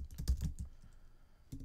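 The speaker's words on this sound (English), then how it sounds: "So I'm going to type something like" Computer keyboard typing a search, a quiet close cluster of soft key taps followed by a pause and a couple more presses.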